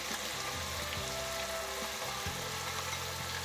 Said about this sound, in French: Donc tout va frire ensemble